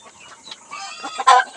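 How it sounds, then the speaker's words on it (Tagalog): Chickens cluck in short bursts, a few birds nearby with one louder squawk near the end, no talking. "pumugtak na bigla yung mga chicken ko"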